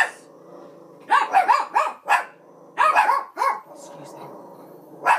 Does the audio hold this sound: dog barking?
yes